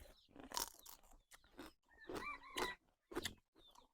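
Someone bites and chews a ripe mango up close, producing several separate crisp crunches with short pauses between them in a quiet setting.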